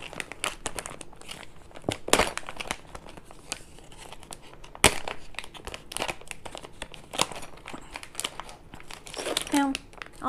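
The plastic packaging of a GoPro accessory is opened close up with repeated crinkling and tearing bursts, while someone talks over it.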